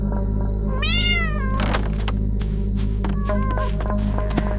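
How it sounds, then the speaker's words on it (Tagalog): A cat meows in a clear rising-and-falling cry, followed by a couple of shorter meows, over a steady low hum and a few thumps in a quiet night-time scene of an animated horror story. "Uy, may pusa?"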